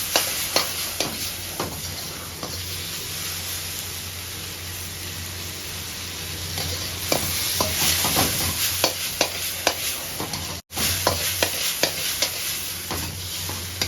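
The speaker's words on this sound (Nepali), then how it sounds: "यसलाई मजाले भुट्नु" Chicken for fried rice sizzles loudly in a pan, a dense crackling hiss with repeated sharp scrapes of stirring, close and continuous, no talking.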